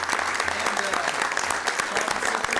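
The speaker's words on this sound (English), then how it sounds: "This is a big round of applause for another community advocate there" Steady, dense applause from an audience at a Sacramento city council meeting, with many hands clapping at once in a loud, continuous wash that holds for the whole stretch.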